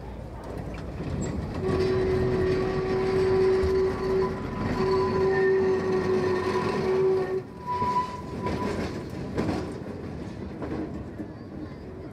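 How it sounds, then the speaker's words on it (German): An old Lindner tram runs through Potsdam, rumbling and rattling steadily up close, with a sustained squeal and a tonal whine partway through and faint voices in the background. "Zwischen dem Platz der Einheit und der Glienicker Brücke fährt der Lindnerwagen."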